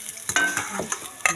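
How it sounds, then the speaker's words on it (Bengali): Fish sizzles in hot oil in a pan, with scraping and stirring clatters at irregular intervals, close up. "মাছ ভাজছে"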